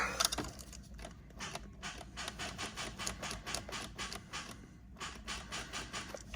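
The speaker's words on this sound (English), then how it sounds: "So that clicky noise tells me I need to wall up the starter motor with a hammer." A rapid, steady series of dry mechanical clicks from the starter solenoid of an old Subaru Legacy with a failed starter motor, a relay-like chattering that continues for several seconds, close by with no voices.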